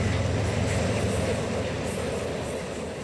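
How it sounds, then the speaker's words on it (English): A BNSF freight train rolls past at night near an ethanol plant in Garden City, a continuous low rumble of wheels and cars with a steady mechanical drone, moderately distant and fading slightly toward the end. "Several trains will pass by during this time"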